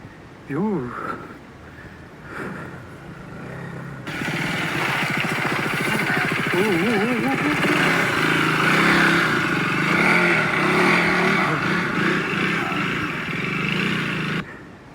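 A KTM Duke 250 motorcycle rides off-road on a rural village trail, its engine growling steadily and loud for most of the stretch after a brief quieter start, with someone talking over it in places.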